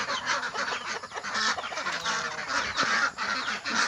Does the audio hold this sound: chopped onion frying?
no